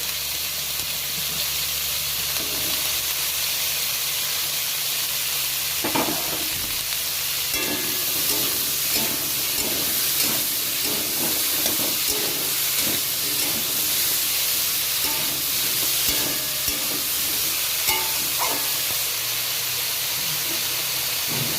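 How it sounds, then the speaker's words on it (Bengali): Beans, eggplant, carrot and potato fry in hot oil in a pan, giving a loud, continuous sizzle and hiss with scattered crackles and occasional stirring scrapes, close up and without speech. "এবার কেটে রাখা সব সবজিগুলো আমি এই আলুর মধ্যে দিয়ে দেব এগুলো ভালো করে ভেজে নেব"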